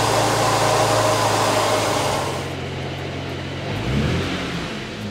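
A BMW engine running after a cold start, a steady loud hum with a whirring high-pitched layer that fades after a couple of seconds, leaving a lower, quieter idle that rises slightly near the end.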